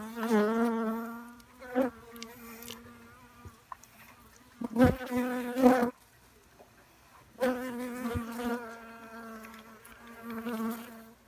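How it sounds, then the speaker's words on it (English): Wild bees buzzing close by at an exposed honeycomb in a house, droning bursts that rise and fade, several swells of humming separated by brief lulls. "Lots of bees."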